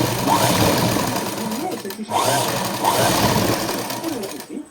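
A sewing machine stitches a neck strip onto a cotton blouse in a steady, close whirring run. The motor pauses briefly midway, then resumes, while someone talks over it.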